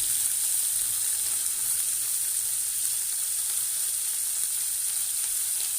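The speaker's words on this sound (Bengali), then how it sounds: "ফাঁকা তেলে ভেজে নেবো, বুঝেছো এরকম ফুটছে।" Dried fish frying in bare hot oil, giving a loud, close, continuous sizzle that holds steady throughout with no pauses.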